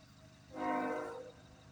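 A CN freight train horn sounds once for under a second on a snowy morning at the trackside, loud and fairly near, with a steady chord over quiet background.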